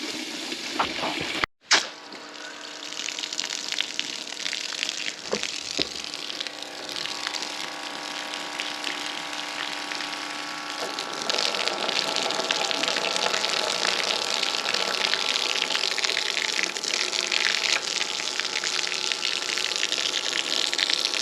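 An RV water pump pushes water in a continuous rushing gush with a faint hum, growing fuller and louder midway, after a sharp click near the start; the flow stays steady and close with no speech.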